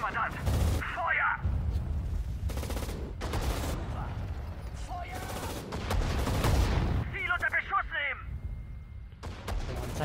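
Gunfire in the World War II strategy game Sudden Strike 4: bursts of rifle and machine-gun fire with heavier cannon-like booms, loud and close, repeating irregularly over about ten seconds amid game voices.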